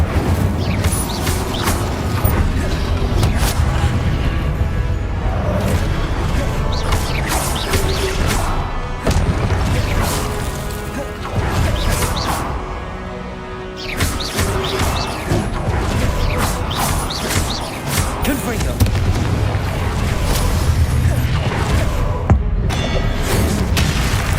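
Repeated explosion spells in Hogwarts Legacy, cast during Professor Rookwood's trial: loud booming blasts, crashes and thuds recur in close succession over a constant rumble of combat, with a brief lull partway through and no talk.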